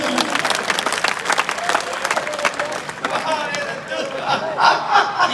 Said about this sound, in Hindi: तालियां बजाओ पीछे से